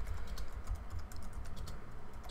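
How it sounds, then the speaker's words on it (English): Rapid, steady keystrokes clatter on a computer keyboard as a command is typed out during a Minecraft building session, close and continuous with no talking. "so I'm just going to type the whole command."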